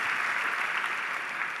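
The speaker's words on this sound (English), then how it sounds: "I don't know why you're clapping." A commencement audience claps in a steady, dense wash of applause that stays even and fairly loud throughout, with no voices standing out.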